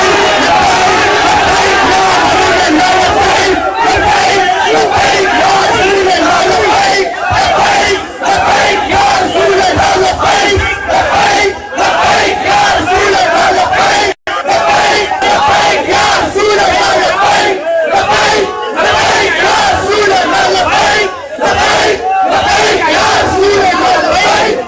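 A large crowd at a religious gathering in Pakistan chants Labbaik slogans in loud, continuous massed voices, with rhythmic surges and a brief break midway.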